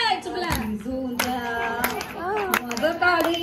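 Quick bursts of hand clapping from an audience at a haldi ceremony, rhythmic and repeated, while a voice sings or talks over them throughout.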